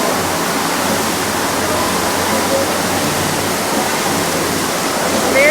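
A waterfall in Hawaii roars steadily and loudly, a broad, unbroken wash of falling water with no pauses, heard close with only faint hints of anything else.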